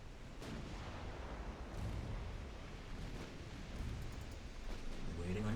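Torpedoes fired at a destroyer during a naval battle in Ultimate Admiral Dreadnoughts, heard as a dense, continuous rumble of gunfire and explosions with repeated thuds, steady and loud throughout.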